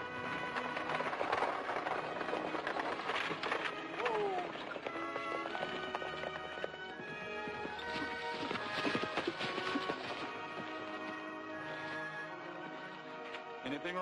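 Stagecoach horses clip-clop at a steady pace under dense orchestral western film music, with the hoofbeats fairly clear and continuous through the scene.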